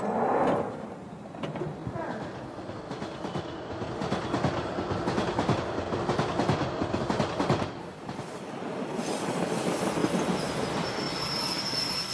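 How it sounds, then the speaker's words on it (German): Train ride in the video game Randal's Monday, a steady rumbling rail car with rolling wheel noise, clicks and a faint high squeal, continuous and fairly loud throughout with no talk. "Und jetzt fahren wir mit der Bahn."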